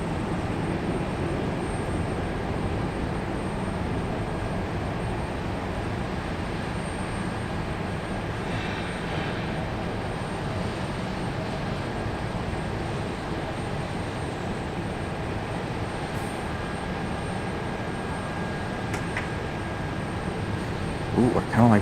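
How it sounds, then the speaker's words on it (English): A Delta Boeing 737 airliner taxiing at Raleigh-Durham International Airport, a steady distant jet engine rumble and whine that holds level throughout with faint outdoor background noise. "And another Delta taxiing out right behind these two. Here's our Delta 737."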